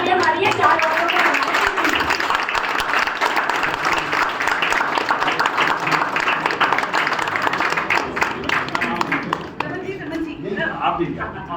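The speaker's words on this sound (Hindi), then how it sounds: "इनके लिए तो डबल तालियां मारिए 4 औरतों को।" An audience at a national theatre festival applauds the best actor award, a dense sustained round of clapping that fades near the end, when a few scattered claps and voices remain.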